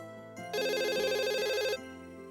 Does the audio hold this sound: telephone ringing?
yes